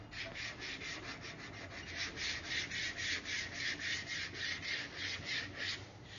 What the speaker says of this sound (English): This keeps from getting any grooves in it as we're sanding.